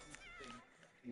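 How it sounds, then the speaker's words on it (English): A cat in The Sims 4 gives a short, rising meow under a person talking close up, over faint game background sound. "Oh, there's a kitty there."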